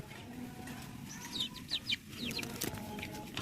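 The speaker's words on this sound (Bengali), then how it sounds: "এগুলো কিন্তু জাপানিজ কোয়েল, এগুলো হচ্ছে জাপানিজ কোয়েল" Male and female Japanese quails, lively and healthy, give several short, high-pitched chirping calls in quick bursts over a steady low background hum.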